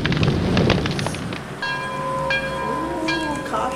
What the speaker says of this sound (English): The train is going overhead, and we're gonna chase it over here.